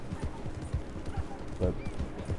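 Horse hooves clip-clop in a steady, quick galloping rhythm in the Red Dead game, riding across rough ground with no trail, close and clear with no talk.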